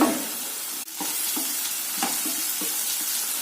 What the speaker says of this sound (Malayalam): വലുപ്പമുള്ള 2 സവാള ചെറുതായിട്ട് അരിഞ്ഞത് ചേർത്ത് കൊടുക്കുക. നന്നായിട്ട് വഴറ്റി കൊടുക്കുക.